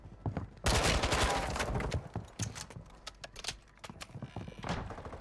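Warzone video game gunfire from AK-74u rifles, loud rapid automatic bursts and scattered sharp single shots crackling close by in uneven clusters.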